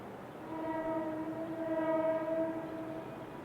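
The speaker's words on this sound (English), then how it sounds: "Two Cleveland Cliffs-owned SW-1500s are pulling in a lengthy cut of scrap loads and empty coil cars" Two Cleveland Cliffs SW1500 switcher locomotives haul a long cut of scrap loads and empty coil cars, sounding a sustained multi-tone horn blast that rises and fades over a few seconds, heard from across a marina.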